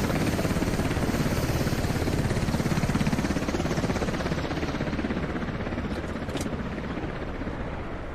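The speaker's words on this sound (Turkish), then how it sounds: "Bunlar drop helikopteri mi?" Transport helicopter rotors in the video game Squad thump in a dense, continuous drone, loud and steady throughout with no voices over them.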